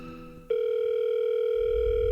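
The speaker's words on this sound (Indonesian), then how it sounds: "Aku telepon dia sekarang." A steady electronic telephone tone sounds while a phone call is being placed, starting abruptly after a faint lower tone and holding evenly to the end, with a low rumble creeping in at the close.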